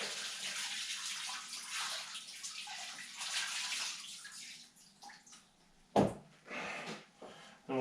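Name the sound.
wringing pickling solution out of a tanned otter hide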